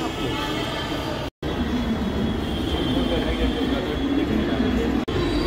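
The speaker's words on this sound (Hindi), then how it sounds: "ये लक्ष्मी नगर मेट्रो है गाइस" Delhi Metro train at Laxmi Nagar station, a loud continuous rumble and hiss of rolling stock with a brief cut partway through.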